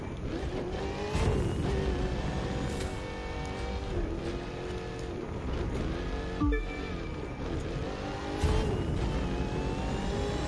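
A Ford Mustang Shelby GT500 engine in the racing game The Crew 2 drones on steadily throughout, its pitch rising and falling through gear changes, with a brief loud revving burst near the middle and another near the end.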